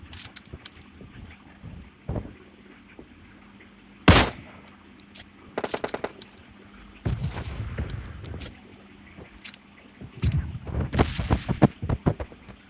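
Bursts of gunfire from the mobile battle royale game PUBG Mobile Lite, with scattered single shots and longer rapid volleys, loud and close, over a low steady background and no talk.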